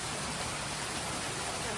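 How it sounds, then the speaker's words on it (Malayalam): Heavy rain falls at a lake resort in Kumarakom as a steady, close broadband wash of noise that stays constant for the whole moment. "സൂപ്പർ മഴ."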